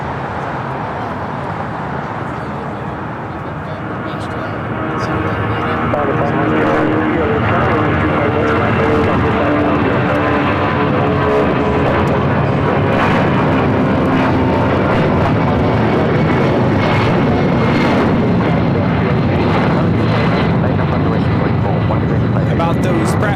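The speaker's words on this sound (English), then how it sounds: "Let's show the Delta 757 real quick." A Delta Boeing 757 jet at LAX roars in a loud, steady broadband wash of engine noise that swells after a few seconds and holds, with a voice talking over it.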